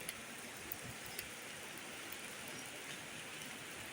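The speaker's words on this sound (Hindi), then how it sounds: "ऊपर रहतासी से कितनी मोटी बारिश लगी हुई है" Heavy rain falling outdoors over a village farm area, a steady, even hiss of downpour heard faintly throughout with a few tiny drip ticks and no talking.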